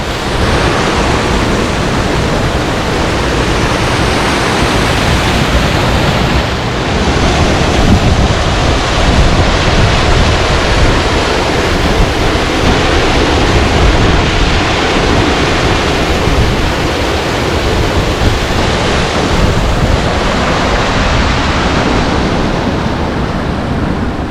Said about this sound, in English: This leads to the waterfall, the big waterfall, which is right down there a little ways, not very far.